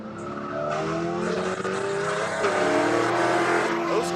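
Spec Corvette race cars run nose to tail at Buttonwillow Raceway Park, their engines roaring loudly and continuously from close by, with a tire squeal rising out of the pack.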